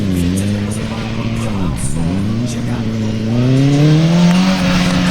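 A BMW motorcycle engine drones and revs in a loud, steady, rising and falling tone during a stunt show ride in Cleveland, Ohio, close and continuous with a dip midway.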